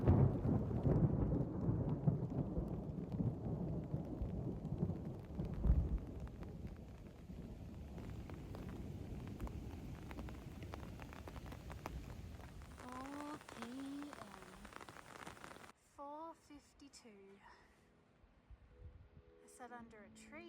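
Steady rain with low rumbling thunder falls around a hiker on the Continental Divide trail, a broad wash of noise that is loudest at first and then thins, with some voice-like sounds late in the clip.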